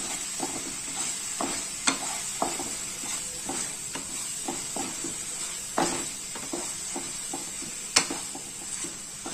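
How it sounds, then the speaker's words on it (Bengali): Spice paste with turmeric, red chili powder and salt is stirred in a pan for palak paneer. The gentle frying sizzle is faint and broken by soft spoon scrapes and a few sharper knocks. "আবার এই পুরো পেস্টটা মিশিয়ে দেবো"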